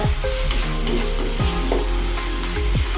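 Spinach thokku sautés in oil, thick and bubbling, with a loud close sizzle and repeated rhythmic stirring scrapes of a spoon against the pan, and no voices.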